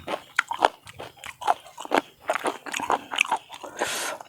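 Boiled Isan snails being eaten, crunched with loud, close bites and chews in an irregular rhythm of crisp cracks and wet mastication, with no talk over them.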